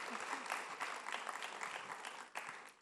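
An audience applauds to welcome a singer, a brief dense burst of clapping, fairly faint and distant, with a few sharper claps standing out.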